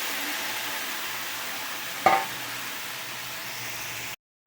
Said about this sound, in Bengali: ভেন্ডি আর বেগুন দিয়ে দিচ্ছি।